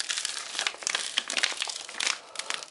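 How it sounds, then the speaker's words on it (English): A Chinese military ration drink package is torn open along the top, producing close, quiet crinkling and crackling of packaging in rapid irregular bursts. "tear the package along the top and open the zipper"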